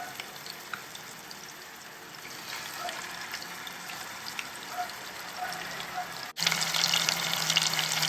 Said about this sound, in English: So we're gonna cook our patties now. Our first patty will go in.